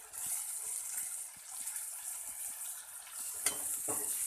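Sliced starfruit frying in very hot oil in a pan gives a steady, close sizzle with occasional soft stirring clicks, no voices.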